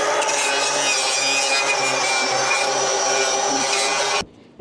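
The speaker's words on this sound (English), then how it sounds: "I just take my angle grinder and brush." An angle grinder fitted with a wire brush scours a dirty metal roof seam, a steady loud abrasive whir and rasp that runs for about four seconds before cutting off abruptly.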